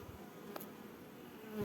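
Young honey bees buzz steadily in an open hive with a depleted honey store, a close, continuous drone with a brief louder swell near the end.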